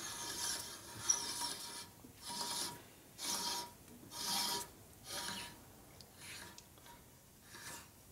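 Reamer cutting metal on a 1965 Harley-Davidson Panhead 74ci FLH engine part, giving a series of rhythmic rasping strokes, about eight in all, close and fairly quiet, with no talking.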